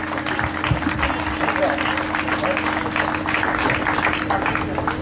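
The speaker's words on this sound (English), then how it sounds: "Once again, a round of applause." Audience applause at a jazz performance, a steady wash of clapping lasting throughout over a constant low hum, with some talk underneath.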